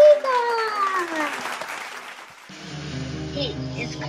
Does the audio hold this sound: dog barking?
no